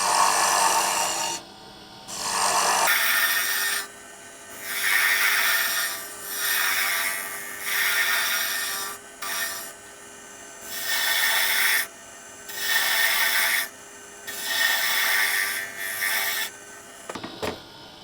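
Wooden slimline pen blank being turned on a lathe, repeated bursts of scraping, rasping cutting over a steady motor hum, each cut lasting a second or two with short pauses between.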